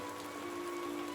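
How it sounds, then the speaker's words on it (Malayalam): Heavy rain makes a steady, even hiss with no breaks, faint and continuous for a brief moment. "ശക്തമായ മഴയുണ്ടായിരുന്നു."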